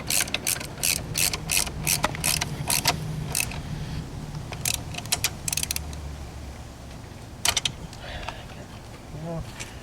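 A wrench ratchets a Torx bolt on a loose, sliding GM/Chevy seat, giving bursts of quick clicking pawl strokes with short pauses, close up and fairly loud.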